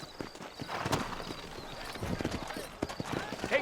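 Steady clip-clop of horse hooves on hard ground, close by, with a brief whinny and a voice talking over the trotting, in the video game Red Dead Redemption 2.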